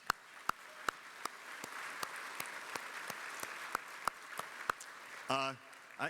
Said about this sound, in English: give everyone here who helps make Keep Oklahoma Beautiful's mission a reality a big round of applause